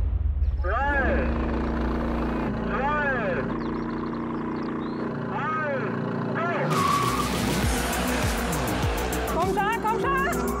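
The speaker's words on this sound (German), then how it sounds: "Der findet ja gar keine Traktion." A V8 convertible sports car, a Corvette C8 Stingray or Lexus LC 500, launches hard with spinning tires: engine roars and rises through gears while tires squeal loudly, with excited shouting over it.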